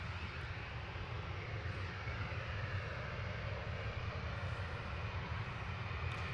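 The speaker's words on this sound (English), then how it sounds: "EasyJet to Amsterdam's taxiing out." An easyJet airliner taxiing out at Manchester Airport, heard as a steady, distant engine rumble and hiss that holds constant throughout with no voices.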